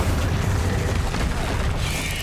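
A Bombarda spell in Hogwarts Legacy bursts into a dense, rumbling blast of noise that fills the whole moment, loud and close, with a brief brighter crackle near the end.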